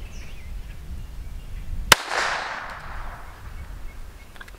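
A single sharp gunshot fired at a ballistic scarf at a shooting range cracks out once, loud and abrupt, followed by a brief fading echo and then quiet.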